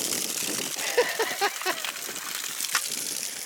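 Water gushes steadily out of an older motorhome's plumbing as it is drained for winterizing, a broad hissing rush with splashing bursts, heard up close and loud.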